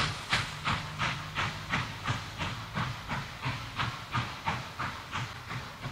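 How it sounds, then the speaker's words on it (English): Norfolk & Western 611 steam locomotive pulling out onto the main line in woodland, loud rhythmic chuffs of exhaust steam repeating about twice a second, close and steady with no talk. "As the train makes its way out onto the main line"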